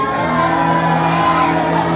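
A large audience in the Grand Hall of the Disney Wish cruise ship cheers, whoops and shouts steadily at a princess farewell show, a loud, continuous wall of crowd noise.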